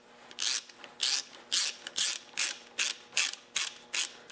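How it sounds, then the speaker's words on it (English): A 5/16-18 tap turning by hand into a small engine muffler bolt hole with cutting oil, giving a steady run of about eight evenly spaced, crisp metallic ratcheting rasps, close and clear with no voices. "And I'm just going to run the tap in there."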